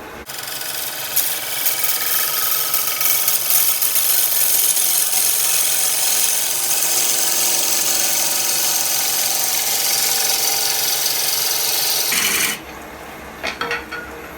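Bowl gouge cutting diseased wild chokecherry wood on a lathe: a loud, continuous scraping, rasping cut that runs steadily for about twelve seconds, then drops away to quieter scattered knocks.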